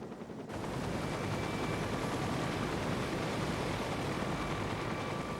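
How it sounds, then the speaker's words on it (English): Steady, loud rotor roar and wash filling the scene after a brief quieter start, a helicopter hovering close overhead above floodwater with constant broadband noise. "So every time the helicopter would approach, I would touch the helicopter"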